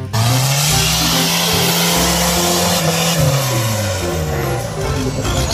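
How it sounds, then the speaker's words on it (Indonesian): An off-road car drives close by, its engine holding a steady drone and then dipping in pitch as it eases off, loud and with nothing else over it. "Widih, ini mobil off-road."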